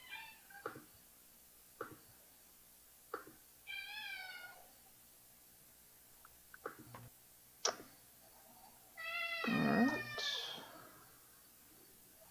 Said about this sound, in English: Very, very needy feline at my feet.